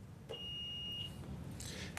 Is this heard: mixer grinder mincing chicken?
no